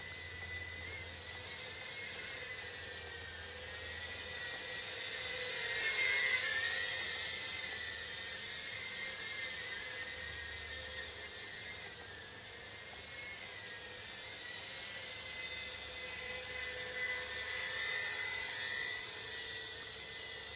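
A small hooped quadcopter drone flies outdoors in warm weather, its tiny motors and propellers giving a thin, high buzzing whine that swells and fades as the throttle is blipped, heard at a moderate distance with faint background hiss.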